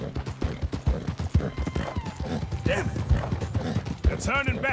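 Horse hooves gallop in Red Dead Redemption 2, a fast steady clip-clop pounding throughout, mixed with a brief whinny and game sounds.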